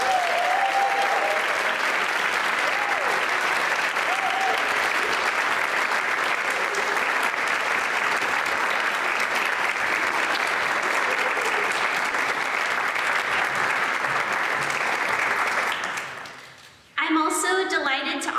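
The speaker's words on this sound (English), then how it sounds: "we can give them a big round of applause" Sustained, loud audience applause at an honors day ceremony for award recipients, a dense steady wash of clapping that holds for about fifteen seconds before fading and giving way to a voice.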